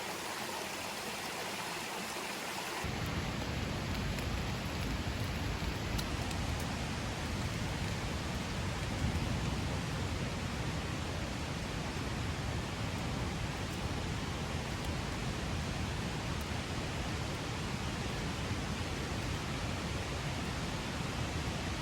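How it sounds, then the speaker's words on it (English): Strong wind before a storm on a hiking trail roars steadily and loudly, a broad rushing noise without letup after a brief quieter start. "It's not even raining yet, but it's super windy."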